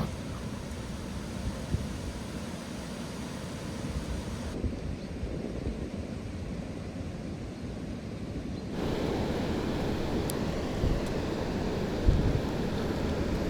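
Strong wind of up to 10 metres per second on the Psel river buffets a microphone on a fishing boat in autumn, a steady loud rushing roar that swells a little toward the end.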